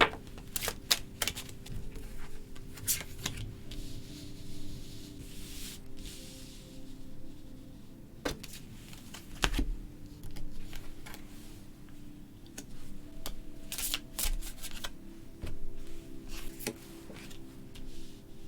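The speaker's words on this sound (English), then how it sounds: "I'm just going to start shuffling the deck." Tarot deck being shuffled by hand at a table, soft intermittent riffling and card clicks in short bursts, quiet and close, with faint background noise and no talking.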